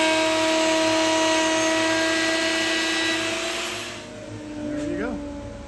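Wood lathe spinning a spindle, a loud steady motorized whine with strong tonal hum, cutting and chip noise that eases off near the end, where a brief voice is heard.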